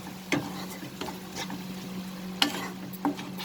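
Dry spices for a pointed gourd dish sizzle softly in a pan over a medium flame, with a few sharp scrapes and knocks as they are stirred.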